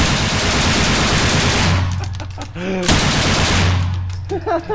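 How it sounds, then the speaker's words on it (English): Automatic weapon fired on a shooting range in loud, dense bursts of rapid shots filling most of the clip, with a short pause midway and a brief voice near the break. "first time ever shooting an automatic weapon"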